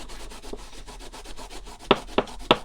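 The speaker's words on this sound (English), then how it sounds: "take some of this Scotch-Brite. This stuff works great for getting rust off" A Scotch-Brite pad scrubs rust off a C. S. Osborne draw gauge with fast rhythmic rubbing strokes up close, followed by three sharper scraping swipes near the end, with no talking.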